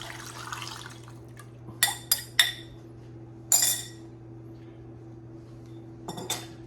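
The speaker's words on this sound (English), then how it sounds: "And I'm going to pour it in." A tomato sauce and broth mixture gets poured over stuffed peppers in a kitchen, with a soft liquid trickle, several sharp metal and dish clinks close by, and a steady low hum underneath.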